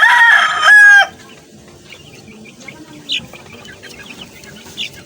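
A rooster crows loudly at the start, followed by quieter scattered clucks and chick peeps in the background.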